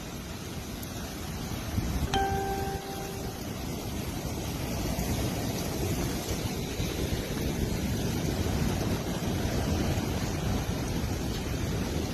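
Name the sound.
strong wind during a tornado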